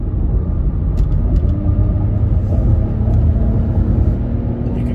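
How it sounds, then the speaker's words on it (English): Lexus RX350 F Sport engine pulling uphill in sport mode, a steady loud low rumble from inside the cabin with a faint rise in pitch as revs build, continuous throughout with no talking. "I'll put it in sport mode so you guys can hear the motor and how it shifts. And I'm gonna be going uphill."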